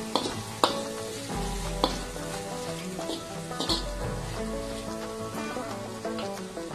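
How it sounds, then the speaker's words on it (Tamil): Tomatoes sauté with carrot, potato, onion, green chilli and garlic in a pan, giving a steady close sizzle broken by several clinks and scrapes of a spoon stirring, with no voices. "இப்ப இந்த தக்காளியையும் சேர்த்து நல்லா வதக்குறேன்"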